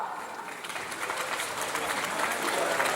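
An audience applauds musicians at a heligonka (button accordion) players' competition in Węgierska Górka, giving dense, steady clapping that builds slightly in loudness throughout.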